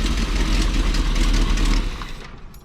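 A 454 big block Chevrolet Class A motorhome engine idles after a cooling fan clutch replacement, a loud, close, steady low rumble that eases off near the end.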